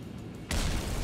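A bomb from a Garry's Mod bombs mod detonates in the game, a sudden loud blast that cuts in halfway through and holds as a dense, roaring rumble to the end.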